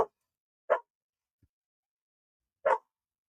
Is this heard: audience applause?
no